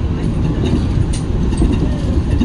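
Taksaka express train running straight through Randegan station past rice fields, a loud continuous rumble of wheels and rail noise heard close from on board, with a faint high whine.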